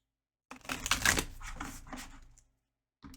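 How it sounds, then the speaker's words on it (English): A deck of oracle cards is shuffled close up for about two seconds, a dense papery riffling and rustling with no talk, then a brief soft rustle at the end. "So we're going to shuffle this deck."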